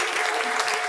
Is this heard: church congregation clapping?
yes